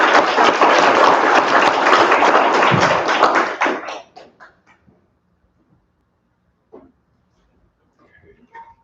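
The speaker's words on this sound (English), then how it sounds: "Just maybe one more round of applause for Caitlyn's reading." Dense, loud applause from an audience at a university creative writing poetry reading, lasting several seconds before tapering into scattered claps and near silence, with a faint voice afterward.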